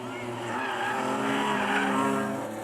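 Onboard a rally car racing over hill crests on the Targa Newfoundland, a loud, steady engine strains with rising revs and tire noise, with voices faintly audible beneath.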